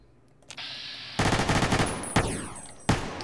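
Modded M4A1 rifle in Fallout New Vegas firing: a faint click, then a loud rapid automatic burst, followed by two sharp single shots with ringing echo, heard alone.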